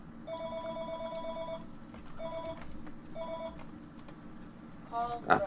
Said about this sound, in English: It would be awesome if someone would answer that phone.